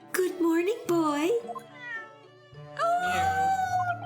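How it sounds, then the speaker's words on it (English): A pet cat in the Great Ace Attorney video game, left behind by Natsume, gives a few drawn-out, fairly loud meows in close succession, layered over game music and sounds. "The cat meows like, you can do it if you want, but the game does it."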